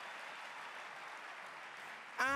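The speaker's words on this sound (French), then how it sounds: "Offrons à Jésus-Christ de merveilleux applaudissements." Church congregation clapping in a steady, fairly quiet wash throughout, ending with a sudden louder sound at the very end.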